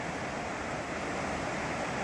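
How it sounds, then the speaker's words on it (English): A river runs below a mountain hiking trail, heard as a steady, broadband rushing of water with no breaks, fairly faint and distant and with no voices over it. "I think you can see it flowing down there."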